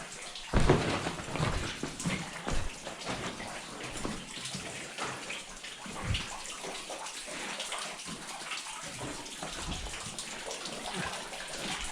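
Water drips and splashes continuously inside an underground mine shaft, a dense patter of drops with occasional louder splats, echoing faintly and steady throughout, with no talking.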